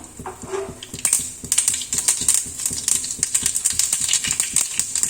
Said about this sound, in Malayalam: ഒരു 1/4 ടീസ്പൂൺ കടുക് ഇട്ടൊന്ന് പൊടിച്ചു കൊടുക്കാം